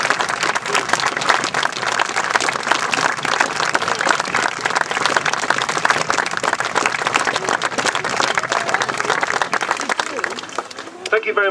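Spectators applaud after a Sealed Knot historical re-enactment display at Stockwood Park, Luton, with many hands clapping steadily outdoors for over ten seconds before it thins out near the end, and a voice speaks faintly beneath.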